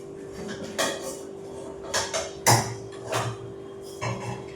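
A metal kadai being handled in a home kitchen, with several separate clanks and knocks of cookware spaced over a few seconds, close and moderately loud, no talk.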